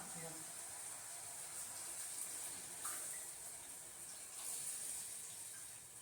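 Water poured into a hot pan for a sajje (pearl millet) upma hisses and steams steadily throughout, a broad sizzling wash with a few brief louder bursts, fairly close.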